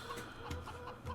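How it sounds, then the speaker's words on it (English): Chickens cluck on a farm in a video game, a few soft, short clucks repeating over a low, steady background hum. "looks like the chickens are out doing their thing"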